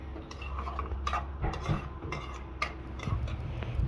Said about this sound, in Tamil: ஃப்ரை பண்ணி வச்சுருக்கிற ஃபிஷ்ஷும் சிக்கனும் இதோட சேர்த்து மிக்ஸ் பண்ணுறாங்க